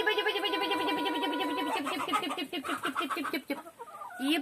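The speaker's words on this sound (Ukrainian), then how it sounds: "Анна, чудо-юди бігають мої курочки." Several chickens cluck and chatter close by in quick, overlapping bursts, a lively, continuous flock sound with no talking.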